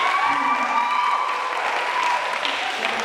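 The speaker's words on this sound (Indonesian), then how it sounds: "tolong berikan tepuk tangan dulu sudah tadi" A church youth worship gathering breaks into steady, sustained applause from a crowd of many hands, loud and continuous throughout, with no talking over it.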